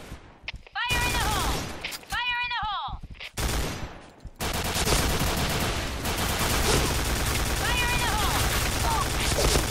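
MK.46 machine gun fire in a video game, with long rattling bursts broken by brief gaps, plus an explosion, whistling effects and dense overlapping gunfire from other players.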